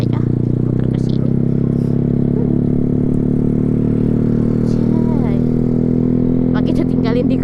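A motorcycle being ridden and steered through a turn, its engine a steady, close droning hum that runs unbroken throughout, with faint rattles and voices mixed in.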